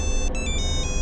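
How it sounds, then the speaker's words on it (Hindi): A phone rings with a bright electronic tone that pulses in short repeated bursts over a low background rumble. "एक अर्जेंट फोन है।"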